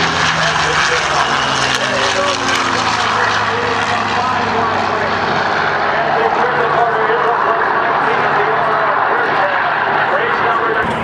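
Racing propeller planes, including a four-bladed Corsair, roar through an air race at Oshkosh, a loud sustained engine drone with shifting harmonic tones that persists throughout, with a voice speaking over it.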